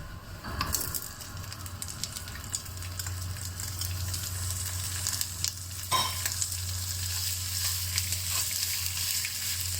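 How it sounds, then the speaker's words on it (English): Sausages pan frying in a skillet give a steady close sizzle and spatter, with a low hum beneath and a couple of brief clatters from utensils, no talking. "Don't overcook the sausages, just slightly pan fry them."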